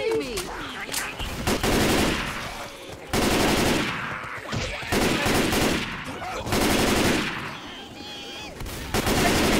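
Heavy gunfire in the zombie shooter Left 4 Dead, with loud bursts of automatic fire in several rapid clusters separated by short gaps, while players shout over it.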